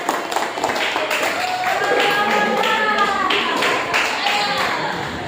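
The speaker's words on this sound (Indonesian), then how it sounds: "beri tepuk tangan yang meriah" A high school class breaks into lively applause after a group presentation on a corn-cob voltaic cell practical, with dense clapping throughout and voices calling out over it.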